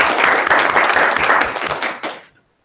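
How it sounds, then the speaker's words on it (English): An audience at a school geography bee applauds the 4th to 6th grade finalists, a dense burst of clapping for about two seconds that fades out quickly. "So they do deserve a round of applause."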